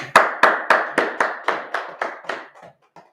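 An audience at an Israelite school history class in Indianapolis claps in about ten crisp, evenly spaced beats that weaken and thin out toward the end, close and with no talking.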